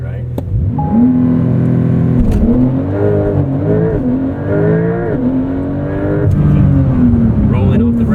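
A Porsche 911 on a driving course at a Porsche Experience Center: loud, close engine drone rising and falling through turns as the driver rolls off the brake and accelerates. A voice talks over the engine.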